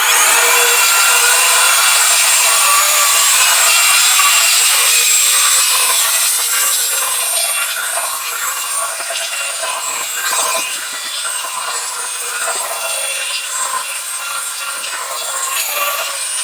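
A stiff Terrazza Weedee PRO power brush scrubs moss off patio stone in a harsh, continuous rasping close to the mic, loudest at first and then easing slightly while staying steady.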